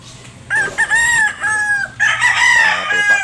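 A gamecock broodcock rooster crows twice in a row, loud and close, each call a drawn-out harmonic cock-a-doodle-doo with a short break between them, over faint background noise.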